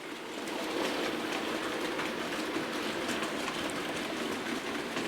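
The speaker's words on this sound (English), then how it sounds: "And here comes the Flying Scotsman." A Flying Scotsman model locomotive rolls past on a model railway with a steady, close rumble and rattle that rises quickly and holds evenly throughout.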